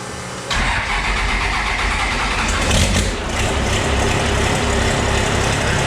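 Triple-turbo Cummins diesel with a freshly torqued head cranks and fires up after a short pause, settling into a loud, close, steady clattering idle with a brief rise in revs, no talk.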